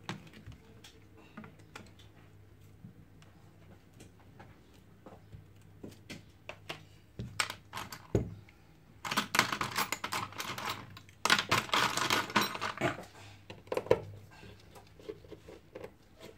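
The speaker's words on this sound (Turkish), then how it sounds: "Öncelikle arka kapağını açıyoruz arkadaşlar." Small plastic clicks and snaps as the back cover of an LG G2 phone is pried open, sparse taps at first, then a denser flurry of crackling clicks near the end.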